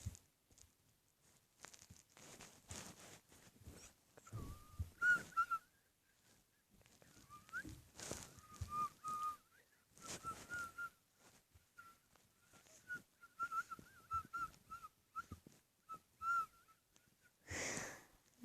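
A person whistles short, thin wavering notes, stopping and starting repeatedly, with breathy pauses and some rustling in between.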